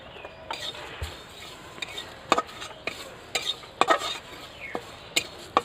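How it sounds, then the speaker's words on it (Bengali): Spices dry-roasting in a dry pan, with a spoon scraping and clinking against the metal in irregular strokes over a low background hiss, close and moderately quiet. "একটু ভেজে নেব শুকনো খোলে।"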